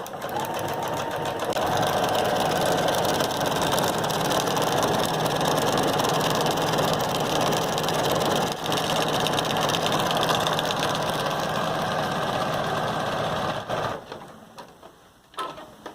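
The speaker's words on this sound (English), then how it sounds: "So now you have a strap with your decorative zigzag stitch that also gives it more durability." Sewing machine running continuously while stitching a zigzag strap on a feed bag tote, a steady loud mechanical whirr for about fourteen seconds before slowing and stopping.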